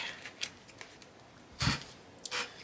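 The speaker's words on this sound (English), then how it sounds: "shuffle it into our deck." Playing cards are shuffled into a deck during a Marvel Champions tabletop card game. Quiet riffling and a few soft shuffling bursts come through, the loudest near the end.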